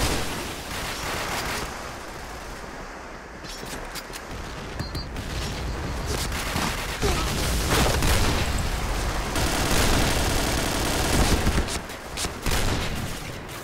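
Rapid bursts of gunfire fill a round of the shooter game Point Blank, with dense, loud automatic fire and clattering weapon mechanics going on continuously throughout.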